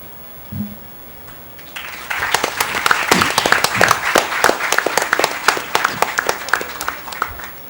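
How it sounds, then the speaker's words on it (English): The audience at a regional quiz final applauds the runner-up, hearty clapping that starts after a quiet moment and keeps going strongly for several seconds. "It's the first time I've seen a runner-up get a better applause than a winner."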